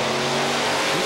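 Monster truck engines roar at the start of a Monster of Destruction race in Monroe, a loud, dense, sustained revving blast filling the whole moment with no talk.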